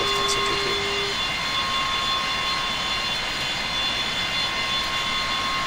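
Boeing 727-200 jet engines in a flight simulator give a steady, broadband roar with faint tonal whines, constant and fairly quiet throughout, with no voices.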